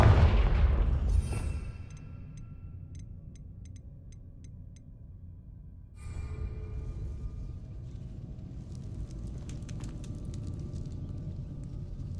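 Confringo blasting spell going off in Hogwarts Legacy near a hidden herbology corridor: a loud deep blast at the start, then rumbling low noise and scattered crackles and ticks, with a second swell of rumble partway through.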